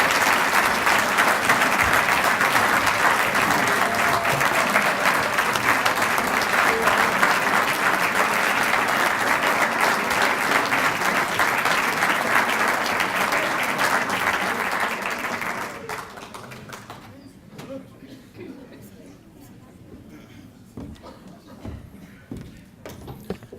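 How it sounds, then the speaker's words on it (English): An audience at a high school athletic hall of fame ceremony claps in sustained, dense applause for about fifteen seconds, then it fades to scattered claps and quiet room noise. "Another round of applause for Lisa."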